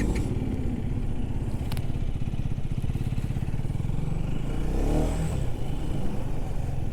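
A KTM Duke 250 motorcycle accelerates hard through first gear, its engine note steady and loud with a rising surge near the end, heard up close from the rider's position with wind rumble and no talk.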